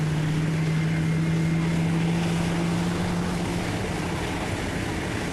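A navy hovercraft passes at sea, its lift fan and aft engines making a steady low drone with a sustained tone under wind and water noise, slowly fading as it moves away.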